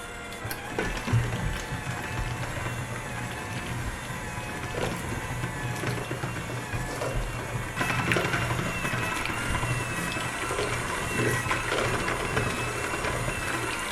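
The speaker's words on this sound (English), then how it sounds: "you're gonna keep blending that with your mixer for a couple minutes" An electric hand mixer blending a homemade scar treatment with lavender oil, giving a steady close whirring motor drone with faint rattling, continuous and unbroken for about fourteen seconds, without speech.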